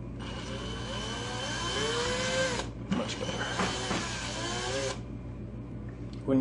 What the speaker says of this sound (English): when you pull the drill bit out, like I just did, it'll want to pull up with it